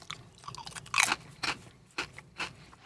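Ruffles original potato chips crunched between the teeth, a series of loud, close, crisp bites and chewing crackles spaced irregularly, with no talking.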